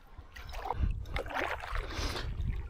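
A kayak drifts on Lake Nillahcootie while the paddler steers with an occasional stroke, giving soft close water swishes and gentle paddle dips over a quiet, faint background.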